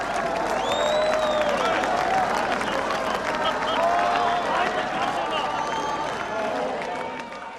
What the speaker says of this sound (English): West Berliners had come to the border and they were applauding us.